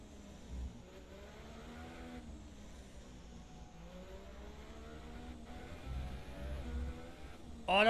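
In the F1 2017 racing game, race car engines whine and rise in pitch under a steady hum, fairly faint, with a louder burst at the very end.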